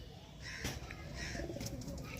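Soft cooing of a Madras pigeon in a loft, low throaty burbles repeating a few times, faint against a dull background hum.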